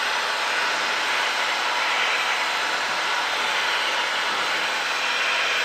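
A Cessna Skylane's piston engine drones steadily at 2300 RPM in cruise, a loud, even broadband roar filling the cabin with no pauses or talk.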